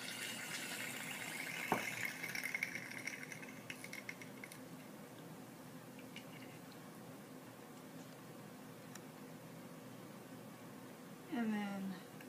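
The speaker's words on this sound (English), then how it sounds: "we'll add a little more liquid nitrogen and add it to our second container" Liquid nitrogen is poured into a container during lab sample grinding. It comes through as a faint, airy hiss of pouring and bubbling, mostly early on, with a person talking through the quiet scene.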